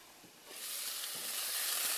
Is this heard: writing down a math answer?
no